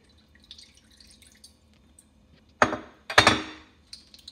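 Water splashes and pours into a container in two short bursts, close and fairly loud, with faint drips and small knocks around them, while cooking shami kabob.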